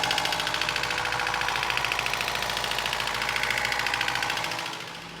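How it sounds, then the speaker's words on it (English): A cheap Toyota truck engine runs loud and steady, with a rapid ticking, pulsing rhythm that suggests valves needing adjustment, close up and continuous before easing slightly at the end. "I don't know if it just needs a valve adjustment or what, but this engine's loud"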